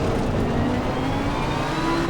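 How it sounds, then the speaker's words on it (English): A race car in Assetto Corsa Competizione roars past close on the left at Hungaroring, a loud, steady engine drone with a faint whine that holds for about two seconds. "Car on the left."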